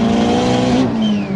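A modified Mini Cooper S R56 spins its wheels at a race launch, a loud, steady high engine whine with a tire-scrabbling edge, close and continuous for a brief moment.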